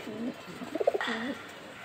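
Racer and high-flyer pigeons coo close by in a short run of soft, throaty, bubbling calls lasting under two seconds.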